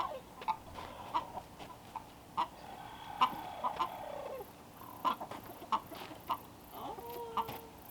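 Chickens in an aviary cluck in short, scattered bursts, fairly close, over a quiet background with a few faint knocks.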